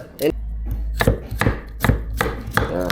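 Knife chopping ginger into small pieces on a board for a bar snack, a series of sharp, close, loud chops in an uneven rhythm, heard alone without talk.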